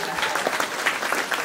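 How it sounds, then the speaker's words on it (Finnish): Audience applause fills a hall at a pony fan convention cosplay contest, a short burst of dense, steady clapping from many hands. "Suuret aplodit tälle."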